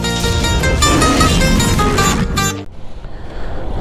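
A Kawasaki Ninja ZX-6R sport bike fitted with a new filter runs with a loud, steady exhaust note for about two and a half seconds, then cuts to a much quieter, lower rumble.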